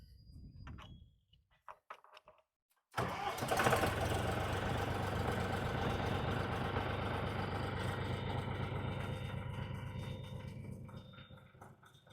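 A DTZ 354U mini tractor engine cranks and fires after a few quiet clicks and knocks, then settles into a steady, rattling diesel idle that runs loud and close for about nine seconds.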